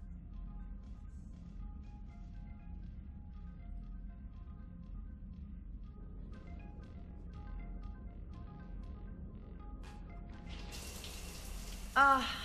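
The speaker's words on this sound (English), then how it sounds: "I figured you'd be more interested in a shower." Shower water runs steadily in the video game Mass Effect 3, a constant hiss that stays even throughout. A few faint tonal notes sit underneath, and a brighter splash rises near the end.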